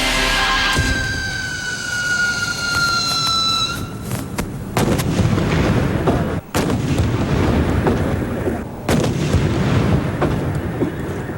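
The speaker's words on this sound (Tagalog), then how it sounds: "Ganito kalalakas ang mga iligal na paputok na pinasabog ng PNP Firearms and Explosives Office" Rapid bursts of illegal firecrackers detonated by the Philippine National Police explosives office, sharp crackling and booming blasts in dense succession, loud and close, with a whistling rocket-like tone at the start.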